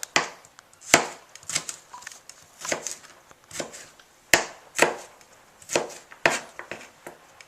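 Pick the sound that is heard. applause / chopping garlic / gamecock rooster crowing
chopping garlic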